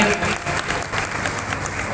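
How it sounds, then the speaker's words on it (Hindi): An audience at a temple bhajan gathering claps continuously, a dense, steady patter of many hands at moderate volume. "और जोरदार ताली बजानी चाहिए"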